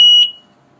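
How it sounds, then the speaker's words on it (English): A single electronic beep from a Kovix disc lock alarm as it is activated, a clean high-pitched tone about a quarter second long that cuts off and leaves near silence. "within 5 seconds you will hear a beeping sound"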